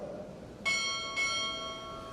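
Two clear strikes of a ship's bell ring out at a Navy chief petty officer pinning ceremony, a pair of bright metallic tones about half a second apart with a ringing decay.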